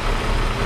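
A 1961 Ford Falcon Delivery engine runs steadily after an oil change and exhaust repair, a brief, loud, even low rumble with no voices over it.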